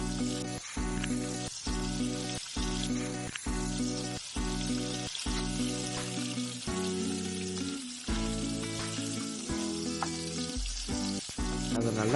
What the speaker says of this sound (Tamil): இப்போ மிக்ஸ் பண்ணி வச்சுருக்கிற ப்ரெட் மசாலாவை கட்லட் மாதிரி சின்ன சின்ன பீஸாக எடுத்து எண்ணெயில் பொரிச்சு எடுங்க.